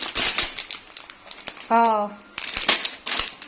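Plastic bags of macaroni pasta crinkle and rustle in bursts close by, broken up by a person talking in between.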